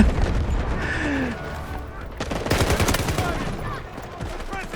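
Rapid gunfire rattles in Garena Delta Force, bursts of automatic weapon fire with sharper close shots mixed in, as a player talks over the action.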